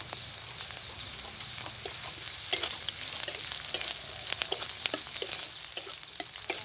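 Onions and chilies fry in hot oil after a spice tempering goes in, a steady bright sizzle with scattered crackles and pops, close and continuous with no voices.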